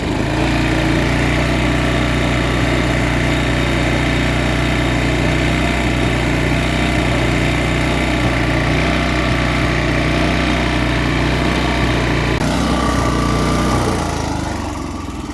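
A small engine runs steadily for about fifteen seconds with a loud, continuous drone and a lawn-mower-like hum, then the tone shifts and falters near the end as it sputters and begins to die.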